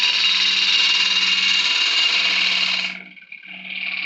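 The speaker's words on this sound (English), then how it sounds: "So now I'm just going to bring this curve round, picking up the cut." A wood lathe turns a horse chestnut hollow form as the tool cuts a curve, giving a loud, steady high-pitched whine with a faint hum beneath that cuts out near the end and returns more softly.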